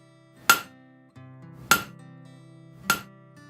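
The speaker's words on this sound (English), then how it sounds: "using the rounded portion of that hammer, I am going to push and pull the metal out from the main bar into 2 outer edges" A hammer's rounded face strikes a metal bar being drawn out into two edges at a forge, three evenly spaced ringing blows about a second apart, bright and close with a metallic ring after each hit.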